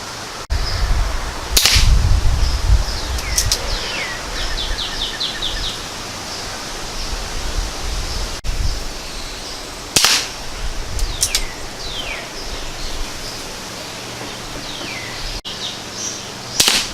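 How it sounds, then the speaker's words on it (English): An Umarex Buck Mark air pistol fires pellets outdoors on a windy day, sharp isolated shots spaced several seconds apart over steady wind noise, with faint birdsong between the shots. "Why don't we fire just, say about maybe 5 more rounds at it and see where it goes."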